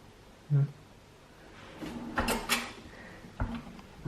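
A kitchen utensil drawer slides and knocks shut nearby, with a soft thump, a rattling slide and a later clunk, fairly quiet in a room.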